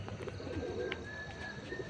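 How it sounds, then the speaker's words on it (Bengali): Pigeons at a rooftop loft cooing faintly amid ambient noise, soft low coos with a few brief chirps, no talk. "এই যে 7টি পায়রা"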